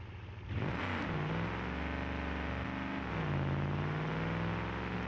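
Loud engine of the Zoombat Model M car in the BeamNG driving game, revving up and holding a steady droning note as the car pulls away through the city, with a second surge of acceleration midway.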